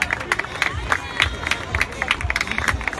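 Spectators at a swimming meet applaud and cheer for swimmer Alberto, crowd noise with scattered claps and shouts, fairly close and lively throughout.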